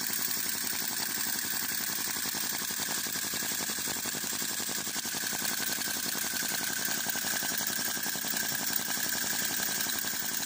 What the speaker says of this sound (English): We've got quite a poppy sound from each side, exactly like a V motor should sound.